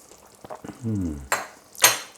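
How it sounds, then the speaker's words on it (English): Chicken pieces for a chicken curry have been cooking in a pan for about 15 minutes. Two short, loud bursts of scraping and sizzling stand out from a brief hummed vocal sound. "Now I've had the chicken pieces cooking for about 15 minutes"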